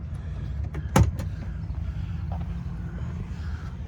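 A truck's passenger-side sleeper door is handled nearby with a sharp latch clack near the middle and a few lighter knocks around it, over a steady low background rumble.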